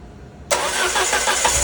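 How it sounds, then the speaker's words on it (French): A Peugeot 205 engine bursts into sound after a brief near-silence and keeps up a loud, steady mechanical roar, close by, with no talk over it. "qu'elle, elle mette les coups de démarreur"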